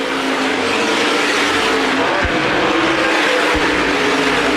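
Modified race cars roar around the oval at Winchester Speedway during a USA Modifieds feature, a dense, loud, continuous engine drone from the pack with no voices over it.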